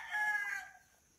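A native rooster crows once, a clear rising-then-falling call lasting about a second, fairly close, with nothing else around it.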